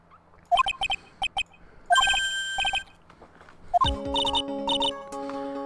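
A cell phone ringtone in the Phoenix Wright: Justice for All video game chirps in quick repeating bursts of short electronic tones, loud and close, with a sustained musical chord entering near the end.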